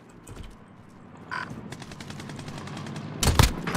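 P90 submachine gun fire in Call of Duty Warzone, heard as scattered game shots and short bursts building to a loud, dense volley near the end.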